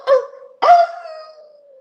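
A dog barks twice, close and loud, each bark trailing into a short whining howl, with silence around it and no voices.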